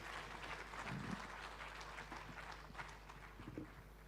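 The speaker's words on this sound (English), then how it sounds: "Ladies and gentlemen, another round of applause for their excellencies." Applause from the audience at a Uganda–Somali investment and business summit, a quiet, distant patter of clapping with some scattered louder claps, steady across the few seconds.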